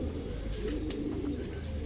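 A pair of Indian working pigeons, male and female, cooing softly amid a steady low background rumble, with the calls faint and partly masked.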